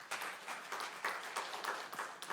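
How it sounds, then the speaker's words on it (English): A conference audience at a vocational education event gives a round of applause, steady dense clapping from many hands filling the room throughout, with no voices rising above it. "Can you give applause to Mr. Opinti,"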